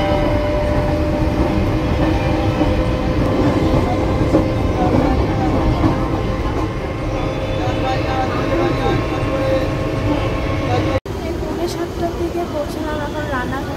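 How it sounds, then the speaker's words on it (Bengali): A passenger train pulls into Gopalnagar station with a loud, steady rumble and rolling wheel clatter close by, a brief break near the end before the noise resumes, with voices present over it. "ট্রেন ঢুকছে গোপালনগরে।"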